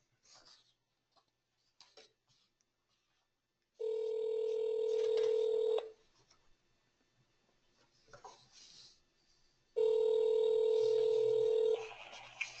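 Telephone call being placed: a few soft dial taps, then two long, steady ringback tones separated by a short pause, clear and moderately loud, with faint handling noise between them.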